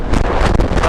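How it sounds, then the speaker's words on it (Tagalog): Strong wind buffets the microphone with loud, low rumbling gusts, filling the short clip with roaring noise. "Lakas ng hangin."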